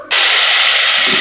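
Spices roasting in hot oil in a pan for a lauki chana dal curry: a sudden loud sizzle bursts in and holds as a steady, close hiss until the end.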